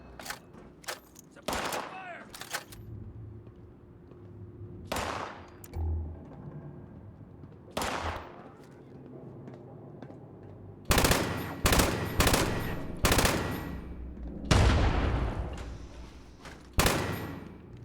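Gunfire in the video game Fallout 76: scattered single shots early on, then loud, rapid bursts of automatic fire hammering in clusters, with short quieter gaps between volleys.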